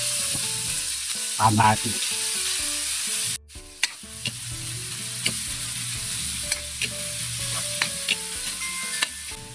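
Garlic sautéing in hot cooking oil, a steady close sizzle that cuts out briefly midway and resumes with scattered crackles and pops, while someone speaks a few words early on.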